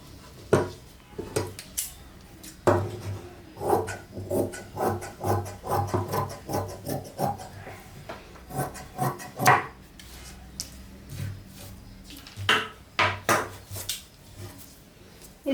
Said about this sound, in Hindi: अब इसके बाद हम ये जो क्रॉस पट्टी है उसकी कटिंग कर देते हैं।